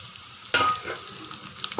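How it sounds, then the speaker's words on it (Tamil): Onions and tomatoes sauté in a pan for spinach kadayal, with a sudden stir that raises a crackling sizzle, then a softer, steady frying hiss with small pops. "ஒரு 3 நிமிஷம் நல்லா வதங்கட்டும்."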